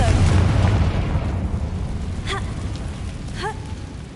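Confringo fire spell bursting in Hogwarts Legacy, a loud rumbling blast that decays over a couple of seconds, followed by a few short magical whooshes and chirps.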